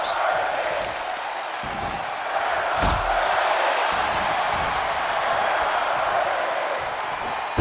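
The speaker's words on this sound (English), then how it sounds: "The crowd here chanting, "We are not worthy of this matchup"" A wrestling crowd at an NCW show fills the arena with a sustained, steady roar of chanting, with one sharp slam-like hit partway through and no clear speech on top.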